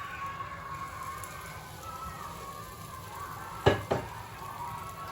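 Liège waffles cook in a waffle iron with a soft, steady sizzle close by, broken near the end by two brief metallic clunks from the iron.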